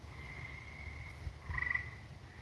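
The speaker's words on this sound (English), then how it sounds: "there's no way you could listen to those frogs now" Frogs croaking outdoors at night from a backyard near a swamp, a steady trilling chorus with one call swelling louder near the end, with no voices.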